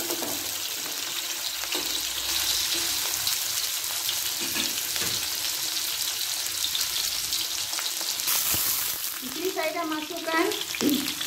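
Shallots and fenugreek frying in hot oil for a mango fish curry, a steady loud sizzle throughout with a burst of stirring and clatter near the end.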